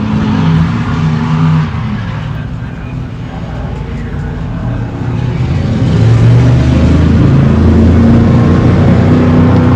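Off-road competition trucks with small-block engines race at the High Desert 100 in Powell, Wyoming, a loud continuous engine roar surging and swelling, with commentators talking throughout.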